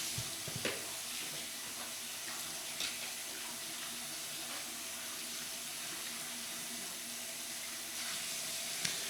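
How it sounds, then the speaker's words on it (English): A sealed Pelican i1015 iPhone case dipped into water in a sink, with steady running-tap water and splashing throughout, a few soft knocks and sloshes standing out near the start and end. "you can just take it and dip it in through that water"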